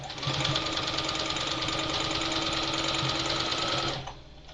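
A sewing machine runs in one steady, continuous burst of stitching for about four seconds as it closes up a skirt seam, then stops abruptly. No one speaks.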